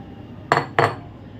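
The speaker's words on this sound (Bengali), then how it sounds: "দাঁড়াও আমি আগে এখান থেকে একটা বাটি বের করে নিই" A bowl is pulled out from among other dishes, giving two sharp close clinks in quick succession over a quiet room.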